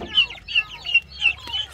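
Rapid, high-pitched peeping from chicks in a steady repeating pattern, with faint low clucking from a mother hen beneath, close by.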